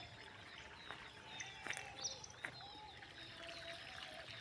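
Water gushing from a running borewell pump on a cotton and soybean farm, a faint steady pouring rush with a few soft splashes and distant bird calls.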